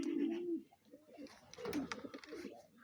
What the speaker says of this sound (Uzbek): Shu kaptarlar sotiladi.